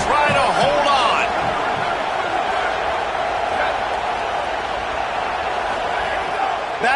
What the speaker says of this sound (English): This crowd even louder now on 2nd down as they try to hold on